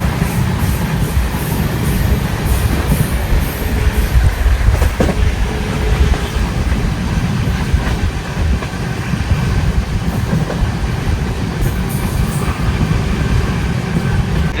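Karnataka Sampark Kranti Express (12650) rolling at speed on rails: a steady, loud low rumble and wheel noise, continuous throughout with faint rhythmic rail clatter.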